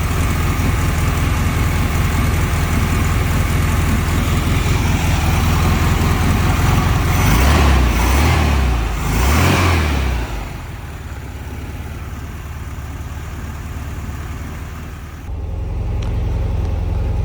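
A 1978 VW Super Beetle convertible's air-cooled engine runs loudly and steadily close by, surging in two quick revs before settling back to a lower idle.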